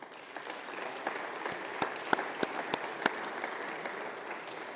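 Fairly quiet, steady audience applause fills a hall at a political social summit, with a few sharper individual claps standing out from the continuous patter.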